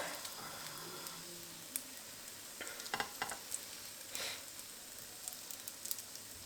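Bread slices for French toast fry in a pan with a soft, steady hiss and occasional light crackles and scrapes, close and fairly quiet, with no voices.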